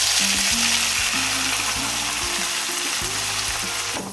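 Onion paste with a bay leaf sizzles and fries in hot oil in a pan, a loud, continuous crackling hiss with a low melodic tone running beneath it, easing off just at the end.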